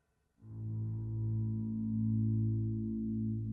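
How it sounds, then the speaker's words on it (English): Electric guitar chord played through reverb followed by an auto swell delay, swelling in softly after a brief silence and sustaining as a smooth, steady wash with no talking. "I have a reverb set up on the M9, followed by a delay, which is the auto swell"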